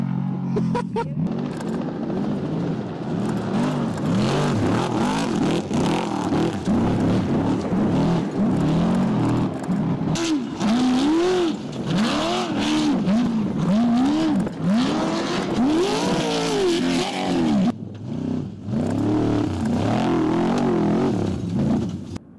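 Loud engine noise with repeated revving and gear shifts as heavy race trucks roar past close by at the Mint 400 off-road time trials, pitch rising and falling continuously.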